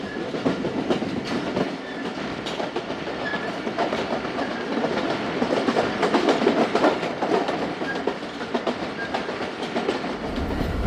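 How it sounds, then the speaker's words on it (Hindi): The Khyber Mail train rolls slowly, giving a continuous rumbling clatter of wheels on rails with rhythmic clicks, heard close from on board at a steady loudness. "और काफ़ी स्लो स्पीड से ट्रेन पास हो रही है।"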